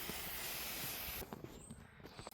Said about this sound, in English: One more quick spray.